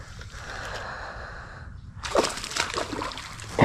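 Hooked bass thrashing at the surface of backyard pond water, a sudden burst of loud splashing and slapping after a quieter stretch of rippling, with breathy sounds nearby.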